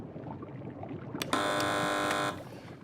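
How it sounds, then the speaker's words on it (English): Game show buzzer pressed during a comedy quiz, a single loud, sustained electronic buzz lasting about a second, preceded by a brief click, over low studio room noise. "Fingers on buzzers,"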